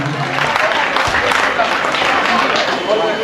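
Audience applause at a school Janmashtami celebration, a dense, loud burst of many hands clapping steadily throughout, with crowd noise mixed in.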